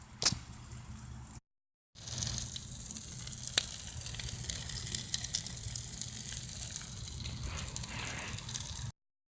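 An English muffin toasts on a hot griddle, giving a steady, fairly quiet hiss and crackle of sizzling that runs for several seconds after a brief gap, broken by a couple of sharp clicks.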